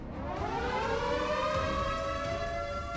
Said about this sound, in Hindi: तो आपको सबसे पहले सायरन ही सुनाई देगा।